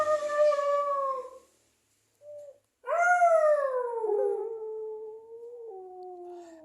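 A small female dog howls like a wolf, loud and close, with long wavering tones: a first howl, a short yelp after a pause, then a longer drawn-out howl that trails off.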